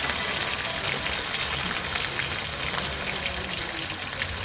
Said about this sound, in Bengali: শুটকিটা ভেজে নেবে।